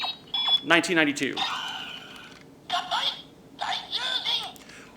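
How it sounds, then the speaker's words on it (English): An original Mobirates toy plays its Daijujin sound effect, a bright electronic tone sequence in short repeated bursts, heard close up with a person talking over part of it. "on my original Mobirets, let's say I want to do the Daijujin sound"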